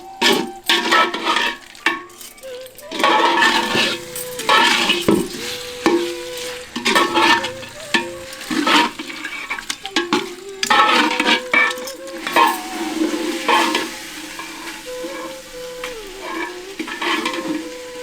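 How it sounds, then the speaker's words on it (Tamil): Country chicken pieces are stirred with salt in a cooking pot, giving repeated scraping and clinking strokes of a spoon against metal over a soft sizzle, steady and close for the whole stretch with no talk. "கறியோட கொஞ்சம் உப்பை சேர்த்து நல்லா கலக்கி விட்டுட்டு கோழிக்கறியை நல்லா வேக வைக்க போறோம்."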